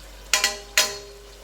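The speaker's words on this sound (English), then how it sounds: "Now this has to fry well." Curd, chili powder and tomatoes hit a hot pan for jackfruit biryani. They give three short, sharp sizzling bursts, two in quick succession and one a moment later, each fading quickly over a low steady hum.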